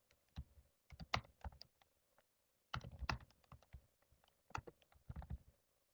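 Typing on a computer keyboard during work in Microsoft Word 2010, heard as quiet, close bursts of keystrokes separated by short pauses, with no talk.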